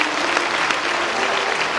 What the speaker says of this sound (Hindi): एक बार इस बच्चे के लिए ताली बजाओ